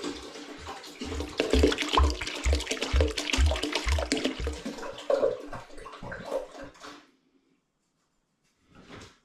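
Cider liquid splashing loudly during home-brew pasteurising of a summer mixed-fruit cider, a sustained rushing wash with rhythmic sloshes, then near silence before a brief final splash.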